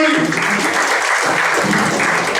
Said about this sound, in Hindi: Give a big clap everybody.